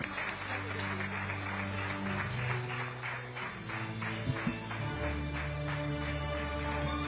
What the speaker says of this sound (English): Huge round of applause, ladies and gentlemen.